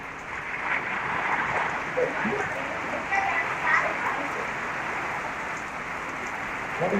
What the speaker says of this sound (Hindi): कितनी बारिश हो गई एकदम अचानक से